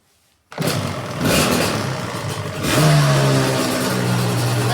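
A motorcycle engine fresh from a carburettor rebuild catches after a brief silence, then runs and revs up, the note climbing midway and settling into a steady loud drone with no voices.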